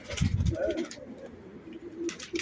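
Pigeons bred from Mardin champion birds coo softly at close range, low throaty calls mixed with faint chatter and movement.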